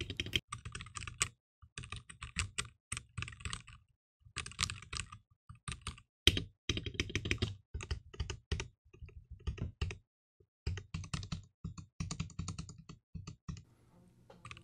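Rapid typing on a stock FE75 Pro mechanical keyboard, a steady stream of clacky keystrokes in bursts with brief pauses, close and clear.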